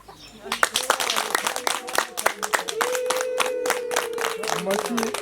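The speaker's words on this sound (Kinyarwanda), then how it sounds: "ariko mu nteze amashyi" Audience at a University of Rwanda event bursting into applause on request, dense rapid clapping from many hands building and sustaining, with a voice speaking over it.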